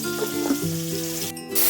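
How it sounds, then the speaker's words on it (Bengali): Eggplant fries in oil with a steady close sizzle and soft crackle, with a brief clink near the end and no talking. "বেগুনটা আমার ভাজা হয়ে গেছে বন্ধুরা।"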